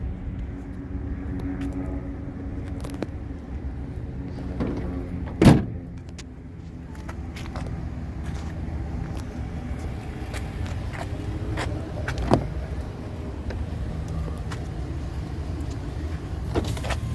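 The power window of a 2021 Chevrolet Silverado 1500 Crew Cab RST hums as its motor runs, a steady low whir with a few sharp clicks and a louder thump partway through.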